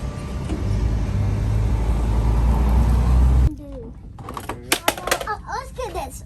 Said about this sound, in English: Wait, car comes.